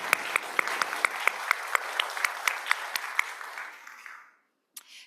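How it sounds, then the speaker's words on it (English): Applause for the musicians at a religious service: a burst of clapping with sharp individual claps standing out, fading away after about four seconds, then a couple of isolated claps. "Let's give them a round of applause for being here."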